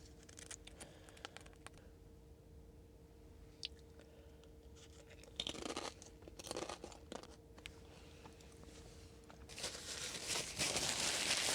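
Close, quiet crunching and chewing while eating very salty fish balls inside a parked Tesla, irregular bites and mouth sounds with louder crunchy bursts toward the end, no talking.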